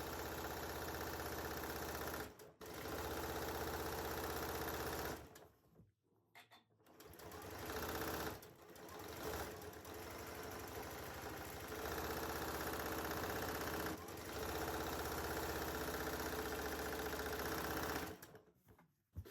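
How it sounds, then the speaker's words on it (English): A sewing machine stitches a Tulip Star quilt block together in long steady runs of loud, even whirring, stopping briefly several times between bursts, close up with no talking. "So let's still sew this one together."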